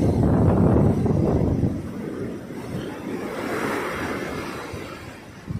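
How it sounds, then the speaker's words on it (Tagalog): Rough sea with big waves, a loud rushing surge that eases after the first second into a continuous churning wash mixed with wind on the microphone, no voices. "Bulabog na naman ang karagatan."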